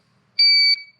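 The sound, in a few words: GZAIR travel carbon monoxide detector beeping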